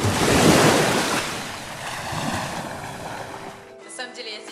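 Sea waves wash onto the shore beside a luxury beachfront condominium in Pattaya, a loud rushing surf with wind noise that swells and then cuts off abruptly near the end.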